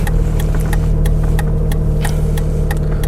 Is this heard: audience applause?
no